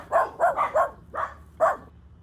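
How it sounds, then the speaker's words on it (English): A dog barks six times in quick, uneven bursts, with a short gap before the last two. Each bark is sharp, fairly loud and close against a quiet background. "D for dog."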